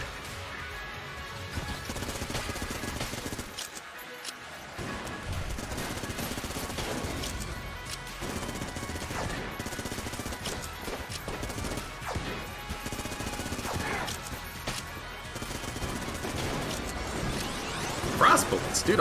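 Crescent Crossbow charge shots firing in the game Enter the Gungeon, a dense run of repeated sharp impacts and crashes over busy game noise, with a voice talking throughout.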